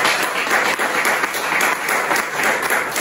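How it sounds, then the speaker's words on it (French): A church congregation applauds loudly during a worship service. The clapping is dense, close and continuous, with no voices breaking through. "On acclame Jésus."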